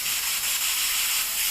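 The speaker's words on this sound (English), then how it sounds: "you control from this valve the strength of the air pressure" Compressed air hisses steadily through the air hose of a mural painter's spray gun, a continuous close, bright rush that holds at an even level with no talk.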